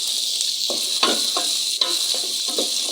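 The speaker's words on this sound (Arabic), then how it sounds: "نديرو دابا الثومه، جوج ضرب ديال الثومه" Garlic sizzles as it is added to a pan of frying chicken seasoned with turmeric, ginger and spices, a steady hiss broken by a few soft stirring scrapes and clinks, close and continuous with no talking.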